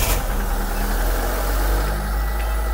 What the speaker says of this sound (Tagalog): Pinagana natin yung makina, pinay-start natin.